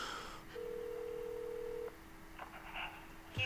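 A phone keypad dialing 911 for an emergency call, a steady electronic tone held for over a second, then brief tonal beeps and a rising chirp near the end, fairly faint over room hiss.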